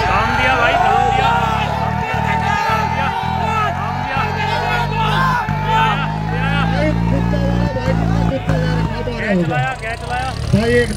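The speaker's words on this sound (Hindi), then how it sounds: "पूरे जोर कर रहे हैं दोनों ट्रैक्टर" Two tractors strain their engines against each other in a tractor tug-of-war contest in Muzaffarnagar, a loud continuous engine drone with shifting pitch that runs throughout under a commentator's excited voice and crowd noise.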